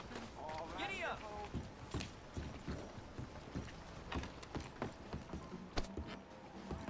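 Horse galloping in Red Dead Redemption 2, a rapid rhythmic clatter of hooves with a brief whinny near the start, moderately quiet and continuous over faint background sounds.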